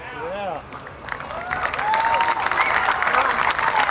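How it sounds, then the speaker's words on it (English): Crowd applause at a 2011 Independence Day celebration in Clarksville, rising from scattered clapping into a full, sustained ovation with whistles and cheers, while a voice is heard near the start. "Give yourself a double round of applause."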